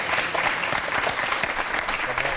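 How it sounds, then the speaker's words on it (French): Studio audience of a French late-night talk show applauding, a loud sustained wash of clapping from the crowd that holds steady throughout with no talk over it. "tout le monde devrait se lever pour applaudir quelqu'un d'aussi brillant"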